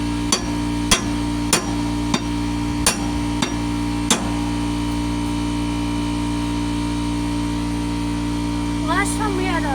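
Several sharp metal-on-metal hammer strikes ring out on a socket during repair of an old lawnmower, about six evenly spaced blows over steady mechanical hum, then a brief chirping sound near the end.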